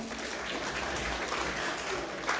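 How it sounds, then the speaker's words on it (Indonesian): A crowd gives continuous applause at an opening ceremony of a PMII East Java assembly, a dense, even wash of clapping that holds steady for a couple of seconds. "boleh tepuk tangannya"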